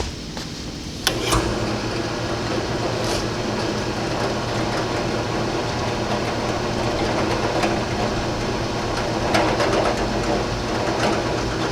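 A steady mechanical whir of a power drill runs continuously after a sharp start, loud and unbroken, grinding through material.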